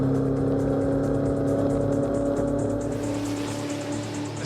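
A Holden Torana A9X race car with a Holden 308 V8 drones steadily at speed around the Bathurst circuit, its loud, even engine note sustained throughout with a slight lift in pitch and brightness toward the end.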